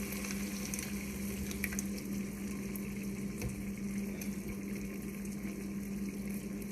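Tomato sauce simmering with peppers in a pot over a fire for a jollof rice dish, giving a steady low bubbling and sizzling hiss with a constant hum and no talking.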